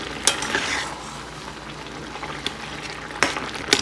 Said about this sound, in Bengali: আর এদিকে এটা ভাজা হচ্ছে